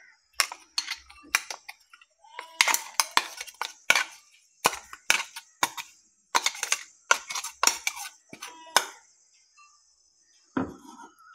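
Ground batter for a healthy breakfast being scooped into a bowl: irregular bursts of close scraping, clinking and knocking of a utensil against containers, with short pauses between.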